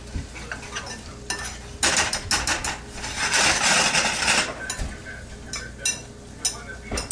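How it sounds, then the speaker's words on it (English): Whisk stirring a lumpy potato soup base of flour in a pot, a steady scraping and clinking rhythm against metal with brief louder bursts over about seven seconds, no talk. "whisk in, and it should to be very lumpy."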